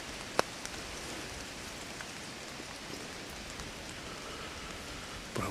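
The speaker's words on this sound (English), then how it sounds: "It's kind of windy, it's kind of rainy." Steady rain patters on the woods and on umbrellas over hunting ladder stands on a windy Pennsylvania mountain, a soft, even hiss with a few sharper drops close by.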